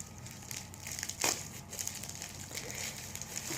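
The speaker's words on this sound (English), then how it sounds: "the mail people with these envelopes, this stuff is sticky" A sticky mailing envelope is pulled open close by, with soft crinkling and crumpling paper and one sharper tearing rip midway.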